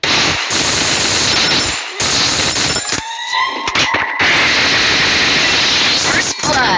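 Loud, sustained bursts of rapid automatic gunfire from a video game shooter fill the clip, broken by a few brief pauses, with heavy game noise underneath.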